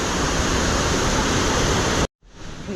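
Abbi Falls in Coorg roars in a dense, unbroken rush of falling water, loud and close, before a sudden cut leaves a quieter, more distant wash.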